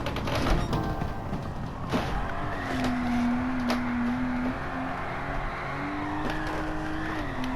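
A car drifting in Gran Turismo 7 on grippy tires, with a sustained tire squeal riding over a steady engine drone, punctuated by brief sharp transients as the wheels spin through the corner.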